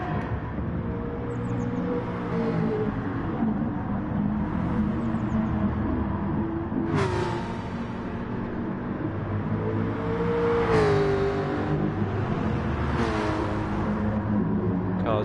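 Race cars at Le Mans roar past one after another, engines whining up and down, with sharp bursts as individual cars sweep by near the track amid continuous engine noise.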